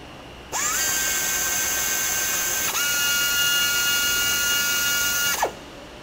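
A tapping machine cuts threads in a small 2-56 hole in metal, its motor whining up to a steady high pitch, dipping briefly midway, then winding down with a faint click.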